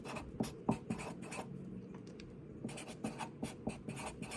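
Numbers are handwritten by pen on paper up close, a quiet run of scratchy strokes and taps in short bursts with brief pauses between.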